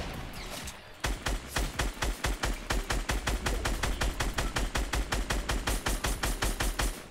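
Rapid automatic gunfire in Fortnite Blitz solo mode, a long steady burst of evenly spaced shots after a brief quiet start, loud and close with no talk over it.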